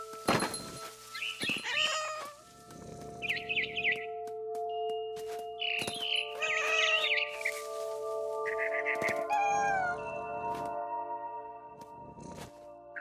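A cat meows repeatedly in the video game What Remains of Edith Finch, with several distinct, close, drawn-out cries spread across the scene over a steady ambient hum.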